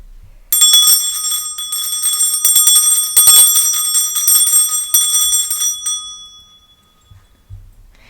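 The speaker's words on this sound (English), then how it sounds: "I'm going to start by clearing the energy with my bell." A single handheld bell struck once, ringing out bright and clear close by, its shimmering tone sustaining for about five seconds before fading into quiet.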